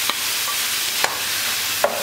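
Diced, washed meat sizzles loudly in a hot saç pan over medium heat for sac kavurma, a continuous frying hiss broken by three sharp clinks of stirring.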